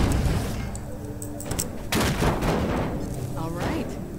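Gunfire from a weapon in the video game Half-Life 2, a few sharp shots and bursts over busy game sounds and background music, with voices talking.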